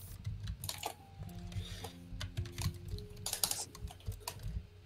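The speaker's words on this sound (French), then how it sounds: "Tu sais que j'entends ton clavier." Computer keyboard typing during an online 1v1 game, with a rapid, uneven clatter of keystrokes up close over a low background hum, no one speaking.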